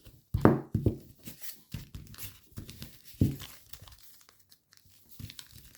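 Origami paper being folded into an F-35 model with an inside reverse fold, giving close crisp crinkles and creases in short irregular bursts separated by quiet pauses.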